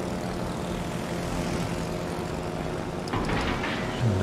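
A large attack group of propeller aircraft from the carrier HMS Malta in World of Warships drones overhead, a steady engine hum that swells slightly near the end.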